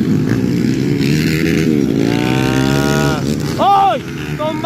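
Underbone motorcycles race past at a track in Kiburiao, Quezon, Bukidnon, their loud engines whining and rising in pitch as they pass close, with a crowd and an announcer talking over the noise.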